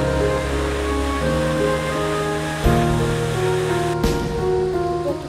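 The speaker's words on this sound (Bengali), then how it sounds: "হঠাৎ করে কানে ভেসে আসবে ঝিরির জলের শব্দ কিংবা ঝর্ণার গর্জন।" Water rushes steadily along a stream on the way to a waterfall in Sitakunda after heavy rain, a constant loud roaring wash with brief bumps, no voices.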